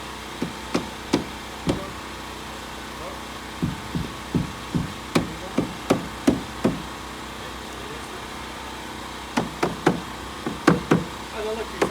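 Repeated sharp hammer blows on tongue-and-groove cedar wall paneling, coming in quick bursts of several strikes with short pauses between, fairly close and loud over a low background hum.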